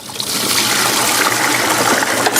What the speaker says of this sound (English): And then we'll drain that out.